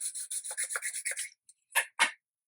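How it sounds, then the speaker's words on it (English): A tool rubs rapidly in short rhythmic strokes over a folded cardstock card box to burnish the creases, followed by a pause and two slower, separate scrapes. "I'll burnish that too."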